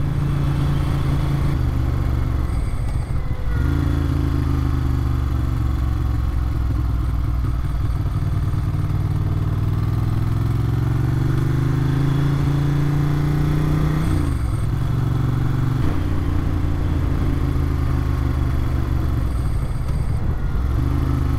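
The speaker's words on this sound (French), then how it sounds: "on va voir un peu comment se comporte cette moto en ville" A 1994 Ducati 900 Supersport engine runs steadily at low revs through town, with its rumble swelling and easing as it rolls along, a few brief rattles breaking through.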